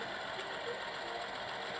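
A steady mechanical combine harvester engine drone in Farming Simulator hums continuously at a constant pitch, with a faint rattling texture and no variation.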